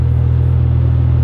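McLaren 720S supercar at full throttle without launch control, a loud, steady deep engine drone and rumble heard close up, with no speech.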